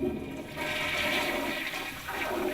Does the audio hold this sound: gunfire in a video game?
no